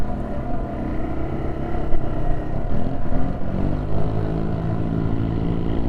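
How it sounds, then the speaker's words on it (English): Engine noise from city traffic with motor scooters such as Yamaha X-Max models passing, a steady droning hum that swells midway as one goes by, heard from a parked TW200 motorcycle, with no talk. "Those bigger scooters are fast buggers."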